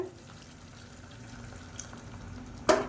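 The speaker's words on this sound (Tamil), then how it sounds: "இப்போ கிரேவிக்கு தேவையான அளவு தண்ணி சூடு பண்ணிவிட்டு சேர்த்துக்கோங்க" Hot water is poured into a simmering kulampu gravy with potatoes in a pot, giving a low bubbling sizzle that ends in a brief, louder splash.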